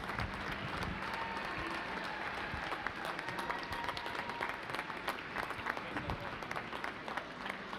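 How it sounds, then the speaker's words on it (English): A crowd in a school gym applauds young wrestlers at a youth wrestling meet, steady sustained clapping with occasional sharp claps standing out and faint crowd murmur underneath. "Please give these boys and girls a big round of applause for their hard work and their dedication."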